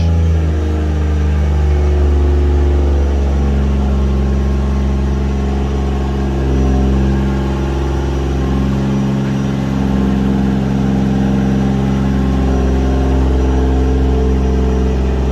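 A car engine, just after a clutch repair, runs steadily at idle, loud and close, with a constant low hum and slight variation in pitch over time.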